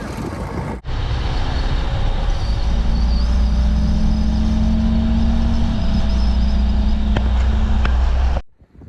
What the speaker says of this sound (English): So there's lots of trucks, oh, right there. And here is more of them coming.